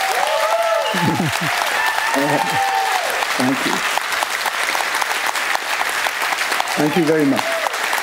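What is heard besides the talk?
audience applause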